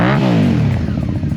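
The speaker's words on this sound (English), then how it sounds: "this particular bike has the very sought after Vance and Hines pipes." Honda Magna 750 V4 motorcycle fitted with discontinued Vance and Hines exhaust pipes, revving loudly up close with a deep rumble, then settling into a throbbing, lumpy idle over a short burst.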